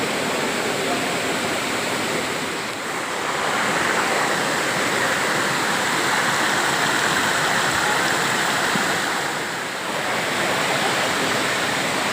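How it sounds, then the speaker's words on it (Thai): A hot spring waterfall at Khlong Thom in Krabi, Thailand: a steady, dense roar of falling water fills the scene continuously and loudly for the whole stretch, with no clear talking. "มาน้ำตกน้ำร้อน"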